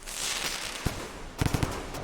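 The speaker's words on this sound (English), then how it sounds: "there's always a bunch of poppers here. Firecrackers." Firecracker plants popping in the Rain World video game, a handful of sharp cracks in quick succession after one earlier pop, set against a steady hissing game ambience.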